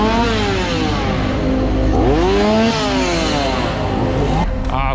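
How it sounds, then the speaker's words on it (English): A chainsaw revs inside a theme park haunted house. The engine snarls loudly and continuously, rising and falling in pitch through several revs, with the crowd noise of the park behind it. "chainsaw wielding maniacs."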